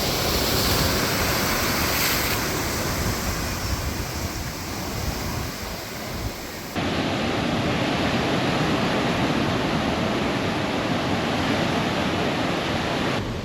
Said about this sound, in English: Something really soothing and very cool about the waves and surf and the sound of them.